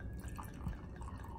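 Sweet white wine trickles into a glass in a small pour, a faint, close liquid dribble with a few drips and no talking.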